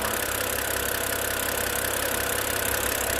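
A BMW N52 engine in an E82 idles steadily with a smooth, even mechanical hum and faint light ticking, heard close up without talk.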